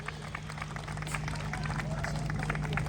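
Audience applause at a Marathi comedy and dance stage show as a performer named Ganesh is honoured: dense, steady clapping with crowd murmur, fairly loud and continuous from start to end.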